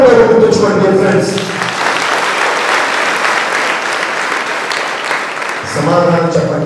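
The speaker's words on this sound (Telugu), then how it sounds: "ఎవరైతే రెండు చేతులు చప్పట్లు ఇక్కడ కొడుతున్నారో" Audience at a college motivational speech bursts into sustained two-handed applause, a dense, steady wash of clapping lasting several seconds, with a speaker's voice briefly heard at the start and end.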